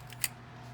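A plastic fuel injector harness clip on a 1999 turbo Integra snaps free with a single quick, close click over a faint low hum.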